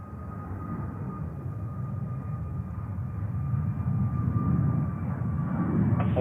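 A heavy Boeing 747 on short final at JFK airport, a steady low engine roar with a faint thin whine, continuous and slowly swelling, heard from a distance without talk.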